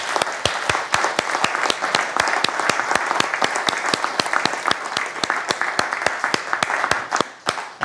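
A round of audience applause closing an evening AI panel meetup for the financial sector, steady and dense with sharp individual claps throughout, loud and close, tapering briefly near the end.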